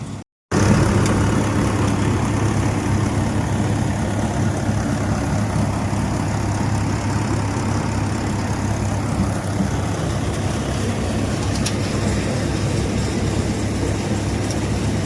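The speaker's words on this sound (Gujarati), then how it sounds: "ડાયરેક્ટ ટ્રોલી લગાવી નાખી પાવર ટ્રેક્ટરથી" A Mahindra tractor powers a cumin thresher with a trolley hitched directly, giving a continuous heavy engine drone and mechanical rumble that stays steady and close throughout, with no talk.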